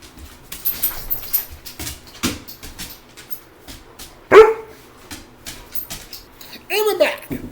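A pet dog named Lulu barks and whimpers at home, with short yips and a louder bark rising over a voice as she talks to it, the sounds scattered and fairly close.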